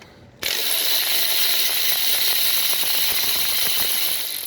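A ratchet wrench spins rapidly and continuously while removing AC compressor bolts on a 2006 Toyota RAV4 4x4 V6, a loud, close mechanical clicking that starts abruptly and runs alone.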